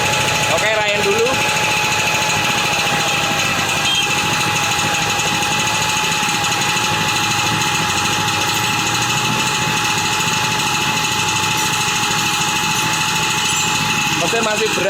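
A small engine runs steadily, heavy and slightly vibrating, with a constant loud buzzing drone and a high whine throughout, close by, with no clear talking over it.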